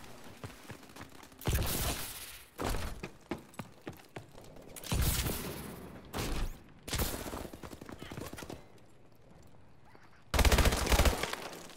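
Gunfire in the shooter game Call of Duty: Advanced Warfare, with loud close bursts of rapid automatic fire broken by short pauses, and scattered single shots in between.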